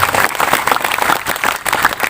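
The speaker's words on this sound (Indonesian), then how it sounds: "Semuanya tepuk tangannya ikhlas." An audience at an Isra Mi'raj religious gathering claps together in a brief burst of close, lively applause that holds steady over a couple of seconds.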